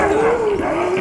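Kennel dogs howl and whine together, one sustained wavering howl close by with yips mixed in, loud and brief.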